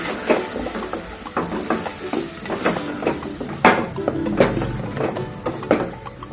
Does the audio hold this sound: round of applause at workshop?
no